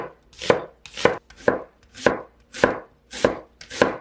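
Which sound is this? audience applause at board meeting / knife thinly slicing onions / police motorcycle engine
knife thinly slicing onions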